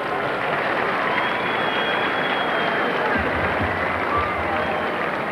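Dense, steady applause from an awards-night audience for the 1991 Rookie of the Year fills the room evenly, with a low thumping appearing partway through.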